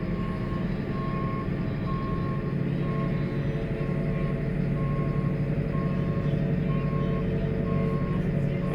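A JCB machine sounds its reversing alarm once put into reverse gear: evenly spaced electronic beeps repeat steadily over a low engine rumble.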